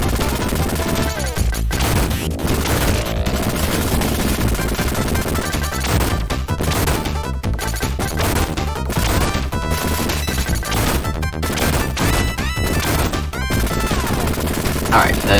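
Nonstop rapid gunfire and explosive blasts from the side-scrolling game Contra: Hard Corps, loud and dense throughout with crashing impacts, backed by game music.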